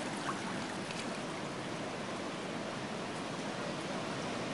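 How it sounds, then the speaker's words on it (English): Rainwater pours off a house during Hurricane Sandy on Long Island, running like a river down the side wall, the driveway and into the street: a steady, dense, unbroken rush of water, fairly quiet and close, with no voices. "That's water pouring like a river down the side of my house into the street, down my driveway, filling up."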